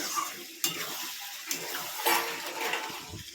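Chicken curry with tomato sauce is stirred and fried in a pan, with soft sizzling under sharp spatula scrapes and knocks against the pan at uneven intervals, close and fairly quiet.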